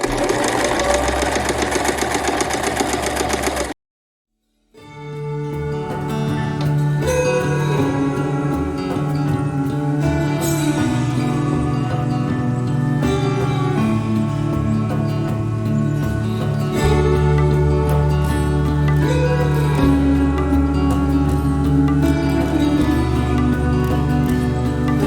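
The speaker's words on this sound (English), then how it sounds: "I'll just sew all the way down into that corner and then I'll pivot." A sewing machine stitches pillow fabric in a steady, fast mechanical whir after a brief opening burst and a short pause, running continuously and close up with no talk.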